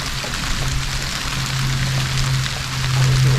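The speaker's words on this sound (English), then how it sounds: "Well, it's raining." Rain falls steadily outdoors in wooded country, a dense continuous hiss of drops on surfaces, with a low steady hum underneath that swells slightly toward the end.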